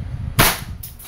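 A single sharp shot from an EMG airsoft Pit Viper pistol, the John Wick 4 black version, cracks out close and loud, then rings off briefly, with a faint second click trailing after.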